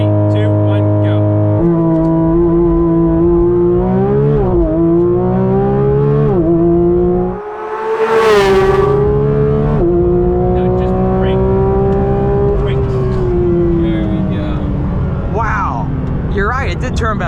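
A Porsche 911 GT3 RS engine roars through a full-power launch-control start, its pitch climbing hard, then dipping briefly at a gear change before rising again. The sound is loud and close throughout.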